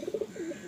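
A single short coo from a purebred Madrasi pigeon, a low, throaty bubbling call heard close and alone, with a faint steady hum in the background.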